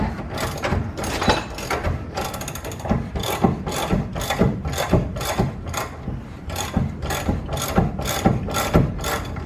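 A ratchet wrench works a nearly seized bolt on a car in a close, rhythmic series of loud clicking pulls with brief pauses between strokes.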